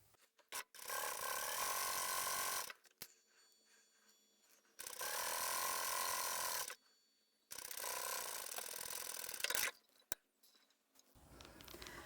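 A sewing machine stitches seams on a fabric phone case in three long, loud bursts of rapid mechanical whirring, separated by quiet pauses with small clicks and handling noises.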